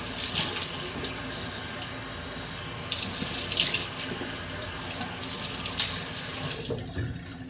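Cold tap water runs steadily into a bathroom sink for rinsing after a safety-razor shave, a continuous close splashing stream with brief shifts as hands move through it, no voices.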